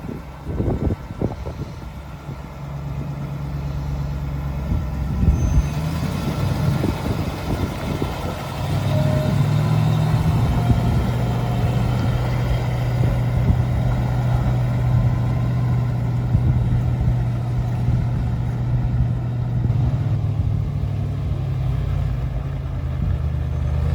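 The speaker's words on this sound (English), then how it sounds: "But Brittany, show them how to put this thing in gear and let's see it run" A propane-powered log truck engine idles, then is put in gear and keeps running with a steady low rumble and slight rise in revs, loud and close for the whole stretch.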